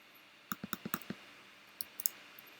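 Computer mouse clicking, a quick burst of about six sharp, close clicks, a pause, then a few more, faint and isolated against a quiet room.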